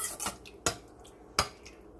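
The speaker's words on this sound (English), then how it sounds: "we are going to go ahead and stir it into the diced tomatoes" Oregano being stirred into diced tomatoes in a pot, three or four distinct utensil clacks against the pot over a quiet background.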